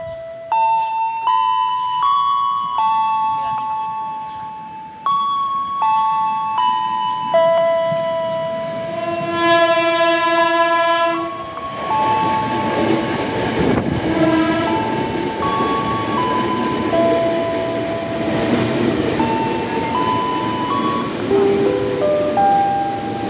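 A 10-car KRL commuter train bound for Parung Panjang rumbles and screeches as it pulls into Cisauk station, with a chiming melody playing over the long, loud rolling noise.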